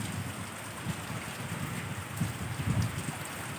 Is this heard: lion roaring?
no